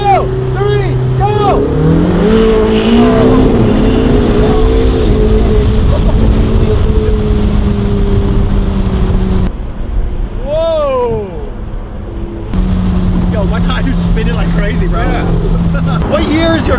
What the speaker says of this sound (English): Big 700 horsepower cars that are rear-wheel driven.